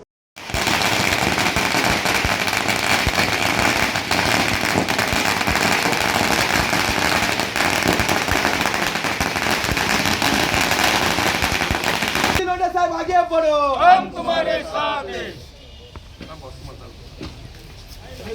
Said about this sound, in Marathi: रामबाबा पठारे यांचा गुलाब पुष्पहार घालून फटाक्यांच्या आतिषबाजी जाहीर सत्कार करण्यात येऊन